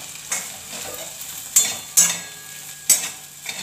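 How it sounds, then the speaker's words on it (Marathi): Okra curry with turmeric sizzles softly in a pan while a spoon stirs it, giving a few sharp scraping strokes against the metal over a low, steady frying hiss. "छान अशी भेंडीची भाजी आपली थोडी परतून घेऊ आणि थोडा वेळ झाकून ठेवू."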